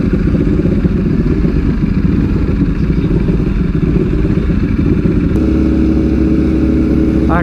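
A Ducati StreetFighter V4S motorcycle engine drones loud and close on a busy street, a constant low rumble with a slight shift in pitch partway through as the bike moves.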